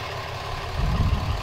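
A 2017 four-by-four long-bed pickup truck with a 6.7 Cummins diesel engine idles with a deep, steady rumble that swells louder toward the end, heard up close and alone.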